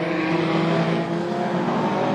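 A race car on a circuit accelerates slowly out of a hairpin. Its engine drones loud and unbroken as it passes, with no voices.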